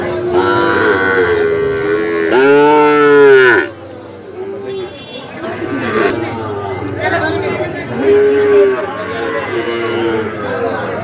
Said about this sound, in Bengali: এই গরু